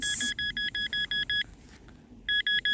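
A metal detector gives rapid high-pitched electronic beeps over a buried penny in a steady pulsing run, a brief pause, then the beeping resumes, loud and close over faint outdoor background in muddy ground.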